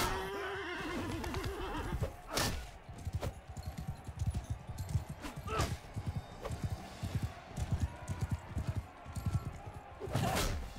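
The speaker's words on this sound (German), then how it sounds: "Oh, das war das Pferd." A horse in the medieval combat game Mount & Blade II Bannerlord gives a loud whinny, then its hooves clatter in a steady clip-clop with further sharp neighs breaking in, no one speaking.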